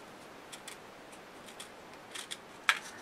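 Scissors cut through layered paper for a gift handbag, giving faint, sparse crisp snips that grow a little louder toward the end, with a sharper click at the close; quiet and close, with no talking.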